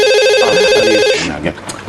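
A telephone rings in an office with a warbling electronic ringtone, loud and steady for about a second before cutting off into a brief muffled clatter.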